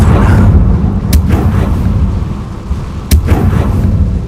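A Confringo fire spell exploding in Hogwarts Legacy: two sharp blasts about two seconds apart, each with a crisp crack and rumbling tail, over a low steady game background.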